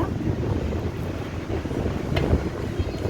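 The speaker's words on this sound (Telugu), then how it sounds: "గాలి చాలా ఎక్కువ ఉందండి మాకు పైన" Strong wind on a rooftop buffets the microphone in a constant low rumble, with no voices, broken only by a faint brief tap near the end.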